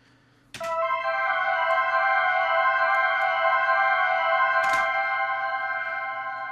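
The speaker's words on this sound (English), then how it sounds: "So you'll have an ARP or something that sounds like this." A synth arpeggio plays as a studio-made beat part, its bright sustained tones ringing steadily after a sharp onset, alone and fairly quiet, with a brief accent partway through.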